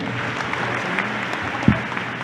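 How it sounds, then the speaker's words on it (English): Audience at the Philippine Marine Corps anniversary celebration applauds the President, a sustained bed of crowd clapping with a brief louder knock partway through. "Let us again give the President a round of applause."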